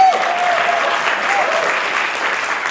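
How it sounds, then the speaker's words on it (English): Loud, sustained applause from the audience at a standup comedy fundraiser for Ekal Vidyalaya greets a guest named Manu, a dense even roar of clapping with a brief tone near the start. "Big round of applause for Manu."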